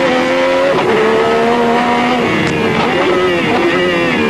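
A Lotus 98T Renault Formula One car heard onboard at Adelaide, its engine screaming loud and close as it accelerates up through the gears, pitch climbing and dropping at each shift.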